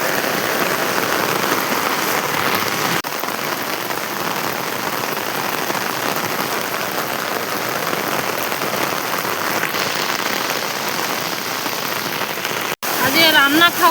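Heavy rain pours steadily onto a flooded street, a dense close hiss that continues without a break, with a brief interruption near the end.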